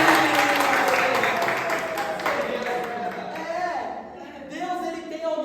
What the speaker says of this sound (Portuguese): Nossa, palmas pra